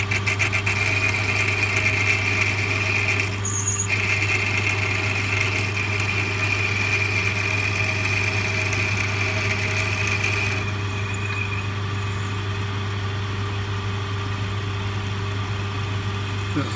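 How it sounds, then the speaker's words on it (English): A lathe hums and whines steadily for a long stretch while drilling a quarter-inch hole into hard stainless steel, a constant mechanical drone with a slight shift partway through. "Stainless steel I'm drilling,"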